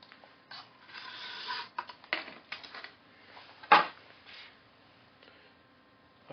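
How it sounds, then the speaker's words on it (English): A blade drags through thick foam core board while model furniture is being made, giving several short scratchy rasping strokes separated by quiet gaps. One sharper, louder scrape stands out near the middle. "I generally like to cut thicker foam core in a couple of passes"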